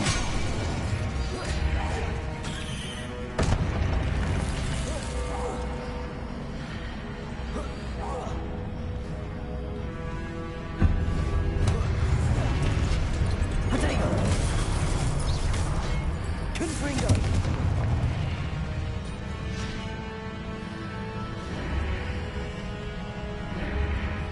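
Confringo spell blasts in the Hogwarts Legacy game: a busy stream of whooshes, cracks and crashing impacts, with a few sharper hits standing out. Game combat noise and a voice run along with them.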